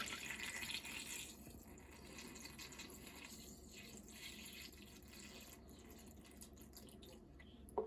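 Liquid deer attractant is poured into a container with a steady, faint splashing trickle that thins out after the first second into a soft continuous flow.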